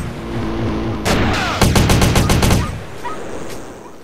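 A pink chrome AK-47 with wooden grips in GTA San Andreas fires a rapid burst of about eight sharp, loud shots in quick rhythm after a couple of louder single reports, then trails off into faint ambience.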